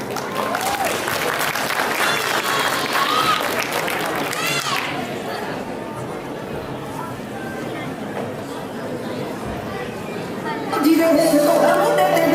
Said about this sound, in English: Please welcome Srishti with a huge round of applause.